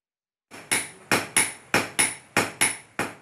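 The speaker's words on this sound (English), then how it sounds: "the ringing and banging of steel and iron being beaten with hammers" A blacksmith beats steel and iron with a hammer, giving eight sharp, ringing metallic strikes at a steady rhythm, each blow loud and close with a short decaying ring.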